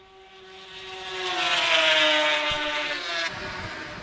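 A racing snowmobile, such as the Wall Brothers 102 sled at a Canadian Power Toboggan Championships race, screams past at high speed. Its high engine whine swells and peaks, then drops abruptly as it passes.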